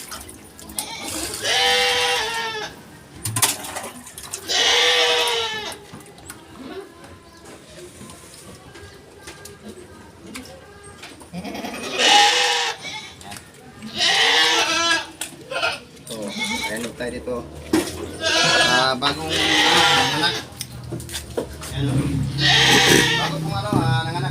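Pet goats bleat repeatedly in loud, wavering calls at feeding time, several bursts spread across the clip with a voice talking in between.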